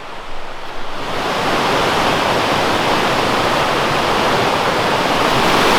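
Waukena Creek in the Columbia River Gorge rushes loudly and steadily, a dense unbroken roar of flowing water close by, rising slightly in the first second.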